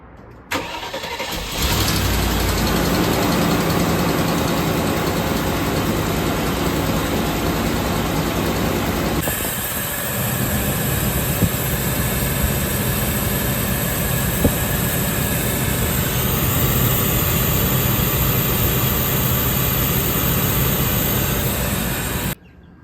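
A 2002 Land Rover Discovery 2 engine cranks and starts after a short pause, then idles steadily and loudly, with a change in tone partway through, running until a clean cutoff at the end.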